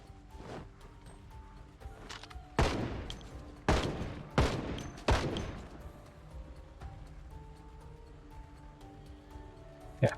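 Gunfire in the Project Zomboid video game: a handful of loud, sharp shots spaced a second or so apart, each trailing off in a short rumble, over a low quiet background.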